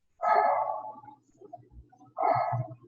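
A dog barks twice, a close, fairly faint bark followed after a pause by a second one, with quiet background noise between them.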